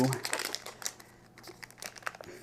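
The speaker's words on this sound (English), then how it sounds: "unwrap it. Some Apple reminiscent wrapping there." Device packaging for a Lark sleep system charging station is unwrapped close by, with bursts of crinkling and rustling wrapping material and someone talking over it.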